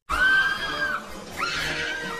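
Women screaming in a film as a spider gremlin attacks, two loud high shrieks, one after the other, close and alone.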